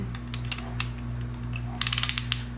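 A piston ring compressor is tightened around a piston during KA24DE bottom end assembly for a 240SX, producing quiet metallic clicks and then a quick run of close ratchet-like ticks over a steady low hum.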